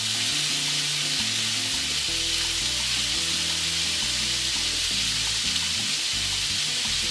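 Bacon-wrapped hot dogs fry in their own bacon grease in a pan without added oil, giving a loud, constant hiss and crackle that runs unbroken throughout, close up and with no voices.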